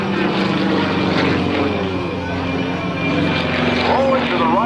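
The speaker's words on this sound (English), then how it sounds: "Sukhoi SU-31 is constructed of space-age composites, Kevlar, titanium, and stainless steel, fuselage is a monocoque construction." A Sukhoi SU-31 aerobatic propeller plane, built of composites, Kevlar, titanium and stainless steel, flies at an airshow with a loud, steady engine-and-propeller drone throughout, while an announcer talks over it.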